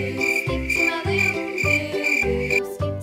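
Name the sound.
cricket chirping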